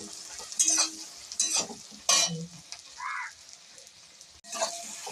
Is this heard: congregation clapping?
no